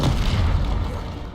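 Bombarda spell blast in Hogwarts Legacy, a deep booming explosion that stays loud and rumbling throughout, with no speech over it.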